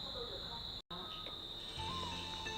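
Live cicadas held after being caught in the Mù Căng Chải highlands give a constant, shrill, high-pitched buzzing drone, close and steady, broken by one brief dropout, with faint low rustles beneath.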